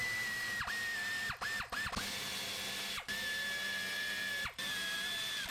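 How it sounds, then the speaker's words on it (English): An air ratchet runs bolts in on a Subaru Forester during a repair, whirring and rattling in several separate bursts with short pauses between them. The tool sounds close and loud, and no one talks. "We can run them in with our little air ratchet."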